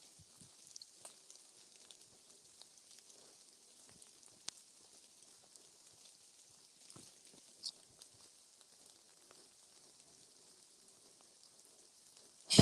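Light rain patters steadily on a marsh with faint, scattered drops, a soft hiss throughout and no voices.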